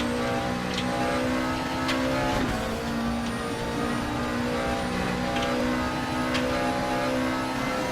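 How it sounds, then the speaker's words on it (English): A race car accelerates at full throttle through Chapel corner onto the straight at Silverstone circuit, a loud, sustained engine drone with steady high-pitched whine and no speech. "Full throttle on the Chapel corner and fast onto the Old Anger straight."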